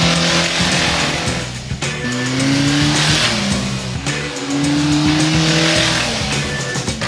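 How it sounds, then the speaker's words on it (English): A car engine running with its oil replaced by candle wax revs hard to redline twice, rising and falling in pitch with each pull, loud and close. "a couple of redline pulls"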